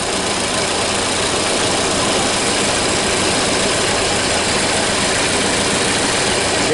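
A 1930 Ford Model A engine idling on an 8-volt battery system, with plugs slightly loose and some compression loss, giving a loud, steady, close rumble that runs unbroken without voices.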